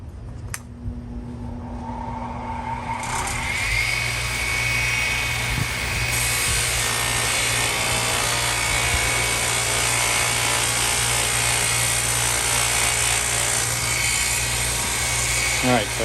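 An old GE Model TH-20 drill being refinished with a power sander loaded with coarse red abrasive, a steady loud grinding whine that builds after a few seconds and runs continuously to the end.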